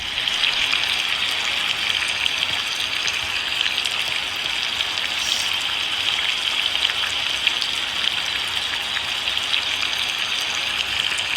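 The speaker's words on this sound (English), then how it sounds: "it's nighttime and it's raining" Steady rain falling at night, a dense even hiss of drops spattering on surfaces, continuous and fairly loud throughout with no voices.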